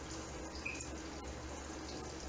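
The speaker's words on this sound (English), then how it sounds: "Turn that water on." Tap water running steadily into a kitchen sink garbage disposal packed with a handful of ice, a constant broadband rush holding even for the whole stretch.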